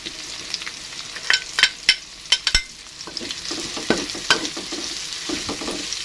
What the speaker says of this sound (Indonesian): Tumis sampai semua bumbunya matang ya